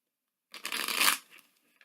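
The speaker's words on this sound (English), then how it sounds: "give this 3 shuffles and a free hand" A Rider Waite tarot deck being shuffled by hand, a single brisk riffle of cards lasting under a second, close and fairly quiet, with no voices.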